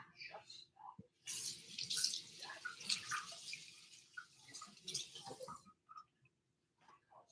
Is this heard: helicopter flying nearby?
no